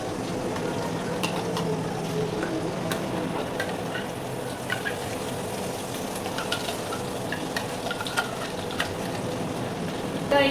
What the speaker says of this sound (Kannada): ಇದನ್ನ ಚೆನ್ನಾಗಿ ಎಣ್ಣೆದಲ್ಲಿ ಫ್ರೈ ಮಾಡ್ಕೋಬೇಕು ಈ ರೀತಿ